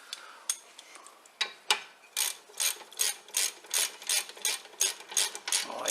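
A socket wrench ratchets on the rear brake bolts of a Land Rover Discovery 3/4 (LR3/LR4), a quick run of about a dozen close, crisp clicking bursts in a steady rhythm, with no talk.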